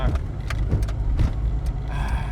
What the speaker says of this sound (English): So we can hear the blower. It's actually the blow-off valve that's always on